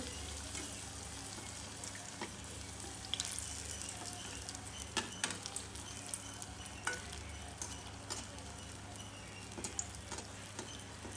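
Sweet rice-flour dough, ariyatharam, sizzles steadily in hot oil, a continuous close crackle and hiss with scattered pops and occasional stirring clinks throughout, no voices.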